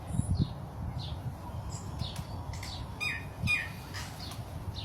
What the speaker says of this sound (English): Birds chirping, sun's out.